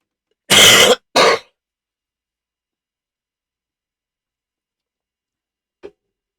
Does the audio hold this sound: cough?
yes